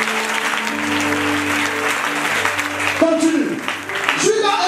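Church congregation applauding and cheering together, a dense sustained wash of clapping from a crowd, with music or singing underneath and voices rising near the end.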